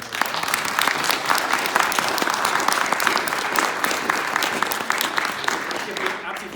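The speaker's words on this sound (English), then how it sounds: "So I think round of applause." An audience at a community gathering gives a steady round of applause, dense and even for about six seconds before it begins to thin out at the end.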